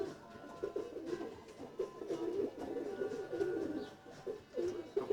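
Show pigeons coo nearby in a loft, soft repeated throaty burbling calls overlapping in an irregular rhythm with faint background noise.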